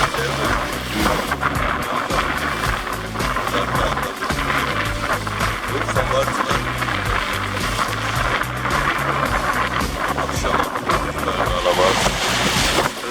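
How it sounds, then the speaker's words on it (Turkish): Continuous rough surf churns and crashes steadily at Mudanya on the Sea of Marmara, a loud, dense wash of breaking sea waves with no pause. "Dalgalar kopar, düşer, öyle adam boyu"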